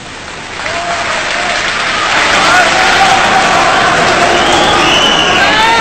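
A debate-hall audience bursts into applause and cheering, the sound swelling from a quieter start into loud, sustained clapping from a large crowd, with a few shouts mixed in.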